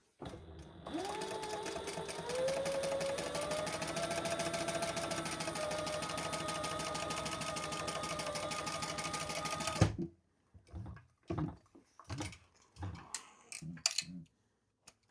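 A sewing machine runs a continuous line of top stitching on a zip-around travel wallet, a steady mechanical whir lasting about nine seconds before stopping, followed by scattered clicks and handling noises.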